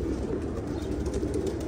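Basrawi pigeons coo in a soft, continuous low murmur close by, with a faint steady background hiss and no talking.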